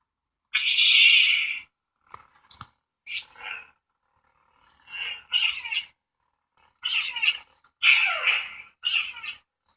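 A Star Wars Force Link bracelet toy plays short electronic sound effects and voice snippets in separate bursts with silent gaps between them, close and fairly loud.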